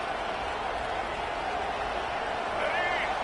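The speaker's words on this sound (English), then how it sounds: "This crowd bringing the energy and noise early." Stadium crowd at a football game, a dense, continuous roar of many voices that holds at a steady level and swells slightly near the end, with a commentator speaking over it.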